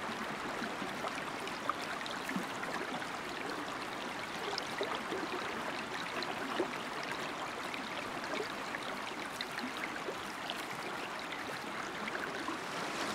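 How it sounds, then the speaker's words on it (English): A loud creek in the hunting game Way of the Hunter rushes steadily, a dense, even wash of flowing water that stays constant and close throughout with no voices. "You see what I mean about the loud creeks? It's anytime you're near water, it drowns out the sound of everything else."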